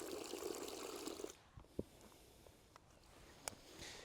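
Lake water is poured into a sweet nut carp bait mix beside a lake, a soft, faint pouring rush lasting about a second, followed by a few quiet drips and splashes.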